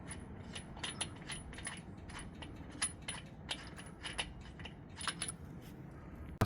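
Wheel nuts come off a Nissan Titan XD during a rear brake pad job, a ratchet clicking in quick irregular runs with small metallic taps, faint and close, with no speech.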